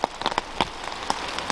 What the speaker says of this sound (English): So it's been raining all day